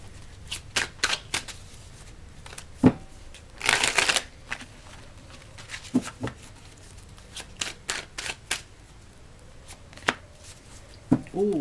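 Tarot cards are shuffled in quick crisp bursts, a string of sharp riffling flicks with one longer, denser riffle in the middle, close and clear against a quiet room with no talking.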